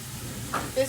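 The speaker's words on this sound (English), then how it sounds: "we're going to start to brown this up" Food sautéing in a pan for tomato orzo soup, a steady low sizzle with a couple of brief stirring scrapes, close and moderately quiet.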